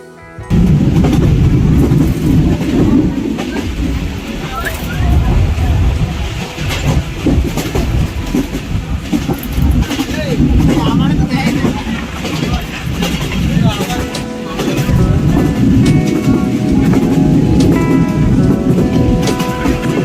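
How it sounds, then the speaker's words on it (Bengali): A Bangladeshi diesel train rumbles past steadily on the Benapole–Khulna line with a loud, continuous engine drone and rattling wheels, while people talk over it. "আমরা দেখতে পাচ্ছি বাংলাদেশের ট্রেন যেটি মূলত ডিজেল ইঞ্জিন দ্বারা পরিচালিত হয়"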